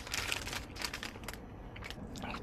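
A crunchy Chick-fil-A cookie bitten and chewed up close, a dense crackling crunch that carries on for a couple of seconds and fades to softer munching, with no voices.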